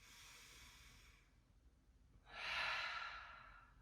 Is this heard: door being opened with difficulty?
no